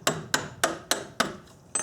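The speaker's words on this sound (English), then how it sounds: "Get a hammer, and I'll tap the bottom of the screwdriver." A hammer taps the bottom of a flathead screwdriver to push out a clip during a rear coilover strut install with basic hand tools: six sharp, evenly spaced metallic knocks, close and distinct, with no talking.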